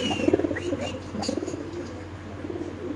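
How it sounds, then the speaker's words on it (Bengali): Jacobin pigeons cooing at a pigeon farm, several overlapping throaty coos and soft warbling calls close by, with faint chirps from other birds and a steady hum of background noise. "খুব সুন্দর এক জোড়া জ্যাকোবিন কবুতর, অ্যালমন্ড ভাই।"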